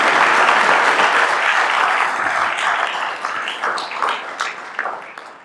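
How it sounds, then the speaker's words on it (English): An audience at a Santa Barbara County Sheriff's Office promotion ceremony applauds in a dense burst of clapping that gradually thins out into scattered claps over about five seconds. "you can give him a round of applause for sure"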